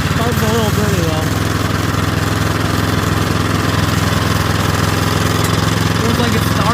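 A Craftsman snowblower's small engine runs rough and choking from a carburetor fault, a loud close mechanical chug with uneven revs that fail to climb, steady throughout, with a voice speaking over it at the start.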